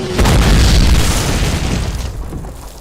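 A mortar round explodes in Call of Duty (2003), a single loud, close boom with a deep rumbling tail that fades over a couple of seconds.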